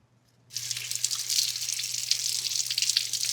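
Tap water runs steadily over leeks being rinsed in a kitchen sink for roasted leeks with herbs, a continuous close splashing rush that starts abruptly and keeps going with no talk.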